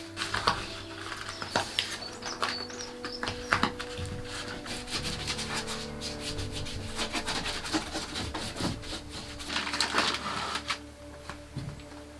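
Insulation goes into an Iveco Daily campervan build with steady rubbing, scraping and rustling of material, plus scattered sharp taps and clicks, close by and continuous throughout.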